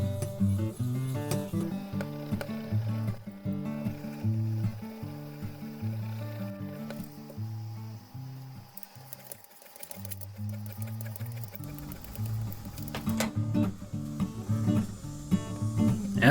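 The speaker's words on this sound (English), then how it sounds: "To get that mirror polished edge that everybody wants, use the sapphire stone and press very hard." A knife edge is pushed hard across a Lansky sapphire stone, a continuous rhythmic grinding made of repeated back-and-forth strokes at a steady pace, close and loud for the whole stretch with no talking.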